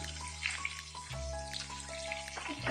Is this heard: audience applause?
no